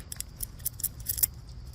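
Scissors snipping through ficus roots during a root-over-rock bonsai job, several quick close crisp cuts in an uneven rhythm over a short moment, with no talking.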